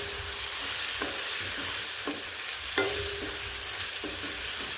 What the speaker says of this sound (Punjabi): ਅੰਦਰ ਗੈਸ ਤੇ ਤੜਕਾ ਲਾ ਲਿਆ